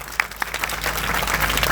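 Protesting students at a Jantar Mantar demonstration clap loudly together in a dense, continuous burst of applause, with a few sharper individual claps near the start.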